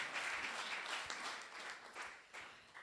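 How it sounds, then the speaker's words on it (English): A crowd claps steadily at a coding bootcamp demo day in Barcelona, a dense patter of many hands that gradually thins toward the end, moderately distant. "give a big applause for them"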